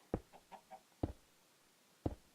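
Minecraft chickens cluck in short bursts: a loud cluck and three softer ones, then two more loud clucks about a second apart. No one speaks.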